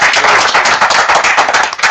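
An audience claps together at an event, a dense, steady patter of many hands sustained for about two seconds.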